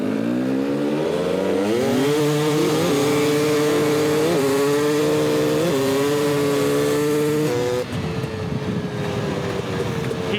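2018 KTM 250 XC-W TPI dirt bikes launching from second gear in a road drag race, engines climbing in pitch with loud, rising two-stroke revs and brief shift dips before easing off near the end.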